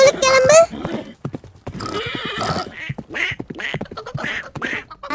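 Cartoon horse cart hooves clip-clopping in a children's farm rhyme, a quick run of bright knocking beats under lively speech and a quacking duck call at the start.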